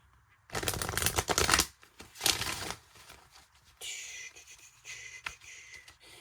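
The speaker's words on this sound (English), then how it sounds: "Let's shuffle these cards and see if we can get you some yes or no answers" Oracle cards being shuffled in a few quick, rustling bursts, close and crisp, followed by softer sliding and tapping.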